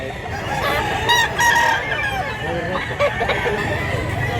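At a rooster market in Mantalungon, Cebu, a gamecock crows in clear, drawn-out calls over steady crowd chatter, with scattered clucks from other fowl nearby.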